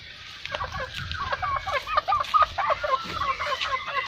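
Chickens cluck and chatter in quick, irregular bursts close at hand near people at a safari park in Aceh, the calls rising and falling over a quiet background.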